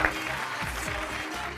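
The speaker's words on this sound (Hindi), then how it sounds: "जोरदार तालियों से इनका भी स्वागत करें।" A studio audience at an Indian TV couples' show applauding, a steady wash of clapping throughout at moderate volume.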